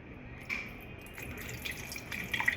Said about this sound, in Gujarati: એમાં થોડું પાણી નાખવાનું.